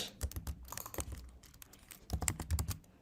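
Code is typed on a computer keyboard, with close, quick clusters of key clicks in short bursts and a brief pause in the middle.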